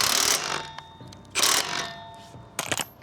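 An impact wrench tightening the rear wheel nut on a Honda Shadow motorcycle gives three short, loud rattling bursts with brief pauses between them.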